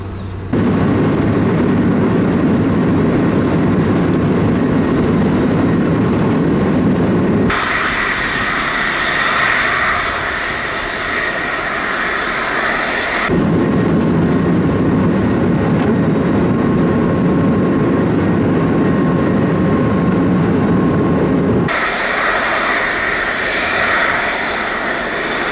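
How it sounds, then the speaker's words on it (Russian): Passenger airplane engines roar loudly and continuously during takeoff on a flight to Antalya, the dense rumble shifting abruptly in tone several times across the stretch, with no speech. "Сейчас в 16:05 будет взлет."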